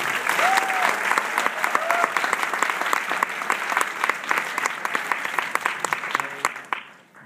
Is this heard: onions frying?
no